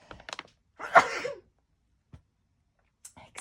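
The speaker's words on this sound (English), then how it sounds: "I'm going to sneeze" A single sharp sneeze bursts out near the start, surrounded by a few soft breaths and small clicks, then quiet.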